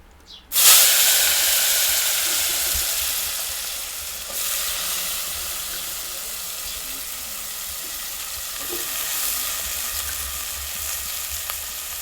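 Soaked onion hitting hot oil seasoned with asafoetida, a loud sudden sizzle that settles into a steady frying hiss with light stirring, close up and with no talk.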